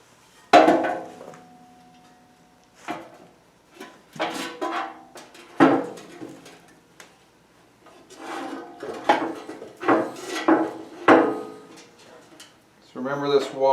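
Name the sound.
Honda snowblower auger assembly lifted back into metal housing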